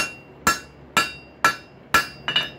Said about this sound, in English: be sure that everyone in your blacksmith shop knows that stuff flies when you hammer